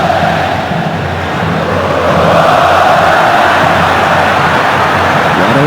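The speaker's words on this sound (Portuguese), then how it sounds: "Vamos ouvir a torcida do Atlético no Mineirão." Atlético Mineiro supporters fill the Mineirão stadium with a loud, continuous crowd roar that swells slightly and holds steady, with no distinct voices standing out.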